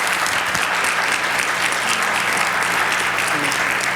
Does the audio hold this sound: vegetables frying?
no